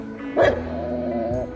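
A single sharp dog bark up close, over a steady background hum.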